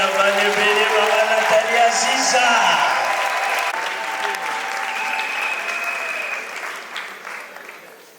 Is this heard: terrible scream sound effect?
no